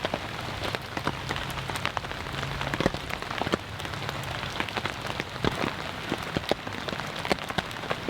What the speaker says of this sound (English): It's been mostly light rain, but it's starting to pick up now.